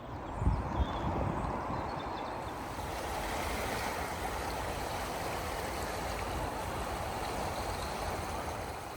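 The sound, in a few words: river rapids of a full river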